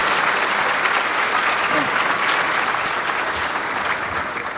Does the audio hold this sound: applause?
yes